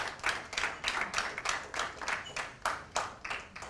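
An audience at a dance research congress gives scattered, rhythmic applause, distinct claps in bursts about every third of a second, fairly faint and alone without talk.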